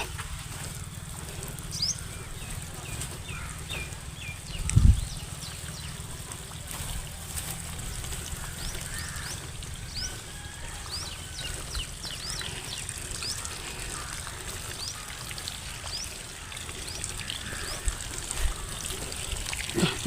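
Steady rushing of water flowing from a rain hose irrigation system in a banana field fills the whole stretch, with one brief dull thump early on.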